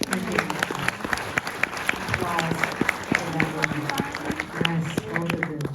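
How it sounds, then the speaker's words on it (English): Audience applause at a Glass Onion (Knives Out mystery) Q&A with Kate Hudson and Janelle Monáe, steady clapping from a crowd throughout, with voices talking and calling out over it. "Round of applause."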